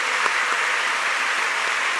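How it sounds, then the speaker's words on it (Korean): An audience at a church's 42nd anniversary worship service claps warmly to welcome guests. The applause is even and sustained, with a dense patter of many hands from start to finish. "자리에서 일어나 주시면 함께 따뜻한 박수로 환영하겠습니다"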